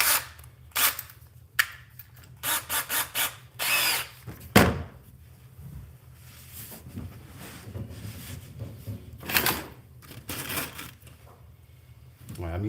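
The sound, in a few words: power tool driving stainless steel screws into a jon boat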